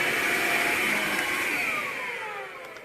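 A Hoover Linx Signature cordless 18V lithium-ion stick vacuum cleaner runs close by with a steady high-pitched whine and airy rush, easing slightly lower toward the end.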